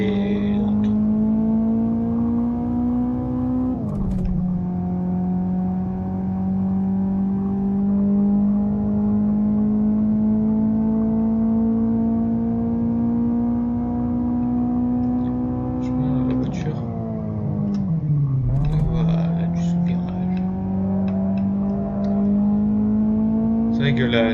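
Car engine racing in the video game GT Racing 2, a loud sustained drone that climbs steadily in pitch, drops sharply at a gear change, then climbs and dips again.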